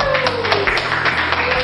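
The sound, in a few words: classroom applause for a student group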